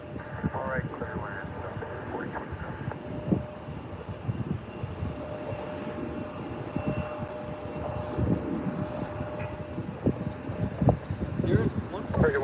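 Airbus A350 jet airliner lifting off from runway 24 right at LAX, a distant steady engine roar heard faintly under continuous talk and radio chatter throughout.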